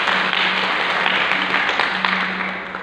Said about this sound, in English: A big round of applause for Priyam Bora.